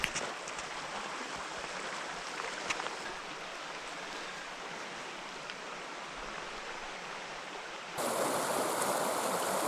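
Steady broadband rush of a river flowing in New Zealand bush during a sika deer stalk, continuous and fairly loud, swelling brighter toward the end, with no talk.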